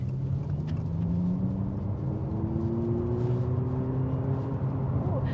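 Abarth 500e Turismo electric car accelerating, heard from inside the cabin as a steady low road rumble with a rising electric motor whine that climbs smoothly in pitch and holds loud throughout.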